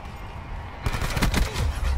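Rapid automatic gunfire from a submachine gun and a Rampart rifle in Call of Duty Black Ops 4 multiplayer, a dense burst of overlapping shots starting partway through and continuing loudly to the end.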